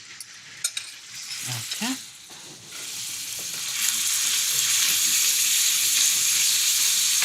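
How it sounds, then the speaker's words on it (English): Sweet Italian sausage hits hot oil in a pan. Early stirring knocks and a brief spoken word give way to a loud, steady sizzle that builds and holds to the end. "So let's start with some oil in the pan. Let's add the sausage to it."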